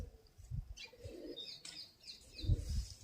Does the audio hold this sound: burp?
no